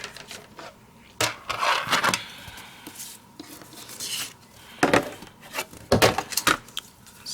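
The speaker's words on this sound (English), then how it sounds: "all I'm going to do, again, like I said, is just score them every 1/4 inch" Cardstock for notecards being scored every quarter inch with a tool, giving a series of short scraping, rubbing strokes separated by quiet pauses, close and fairly crisp.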